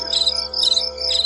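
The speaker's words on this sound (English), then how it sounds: "You can hear the crickets and stuff, the cars going by." Crickets chirp at night over a backyard with trees, a loud, close, shrill trilling in repeated pulses, with a faint low hum beneath.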